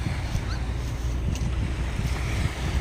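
Sea waves at Dunsol, Sorsogon wash in a steady, unbroken roar with a soft wind rumble, loud and close throughout.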